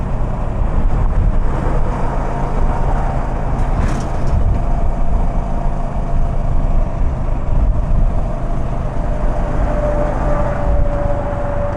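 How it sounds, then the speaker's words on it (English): Loud, continuous road noise from lorries and other traffic on a Manchester ring road, a heavy low rumble and tyre roar heard up close without a break, no voices. "these lorries are going to leave me behind on this ring road, I know it"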